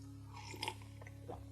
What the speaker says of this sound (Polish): Trochę sobie pomlaskałem.